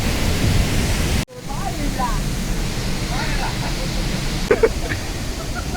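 Thoovanam waterfall in Chinnar forest, Munnar, rushes in a constant, heavy roar close by, with a brief dropout and faint voices now and then beneath it.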